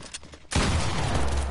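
Loud, dense burst of gunfire in a video game shooting match, erupting after a quiet half-second and continuing as a sustained volley of rapid overlapping shots.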